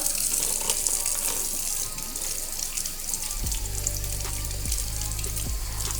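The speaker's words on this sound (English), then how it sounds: "I do peel them, run them under water." Water from a kitchen tap runs steadily over eight large peeled shrimp as they are rinsed clean, a continuous broadband splash that grows fuller and heavier toward the end.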